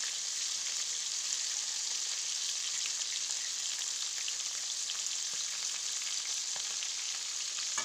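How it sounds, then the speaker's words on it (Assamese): Raw fish rubbed with turmeric and salt fries in hot oil, giving a dense, continuous close-up sizzle and crackle with no talking. "মাছখিনি ফ্ৰাই কৰা মোৰ হৈ গ'ল।"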